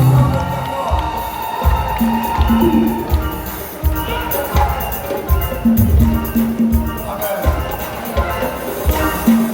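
A concert crowd at the Palais de la Culture cheers loudly for Jesus during a gospel singer's show, a dense mix of shouts and applause with a pulsing music beat underneath.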